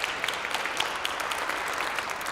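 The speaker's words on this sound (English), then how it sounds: "maybe you can help me by giving them a round of applause" Steady applause from a lecture audience at a university talk, dense broadband clapping sustained throughout without pauses, moderately close and without voices.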